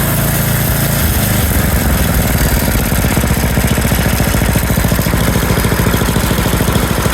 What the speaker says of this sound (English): Now you can hear the idles a little higher.